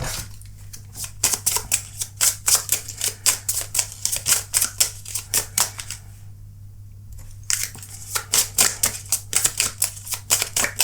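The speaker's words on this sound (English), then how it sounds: "Okay, let's pull your oracle cards." Oracle cards are shuffled by hand in a rapid run of crisp riffling snaps, close and fairly loud, with a pause of about a second in the middle before the shuffling resumes.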